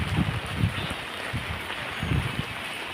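Rain falls steadily in a soft, even hiss, with faint patters and low thuds of drops landing nearby.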